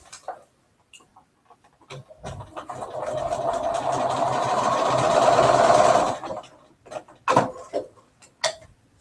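A sewing machine stitches across fabric at a steady, fast buzzing chatter for about four seconds, close and fairly loud, framed by scattered clicks and handling noises before and after.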